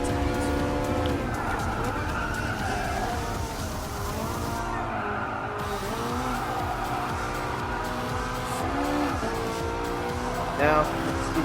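Race car in Gran Turismo Sport revving up through the gears, engine pitch climbing in steady loud sweeps with brief tire squeal, a voice talking over it throughout.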